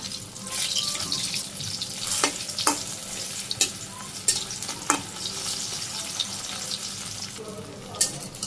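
Food being fried in a pan in a village kitchen, with a soft sizzle beneath scattered scraping and clinking as pieces are turned, several sharp taps spaced through the clip.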